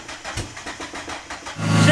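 A car engine fitted with a junkyard supercharger cranks with a rhythmic, repeated starter churn for about one and a half seconds, then catches and fires into a loud, rising roar.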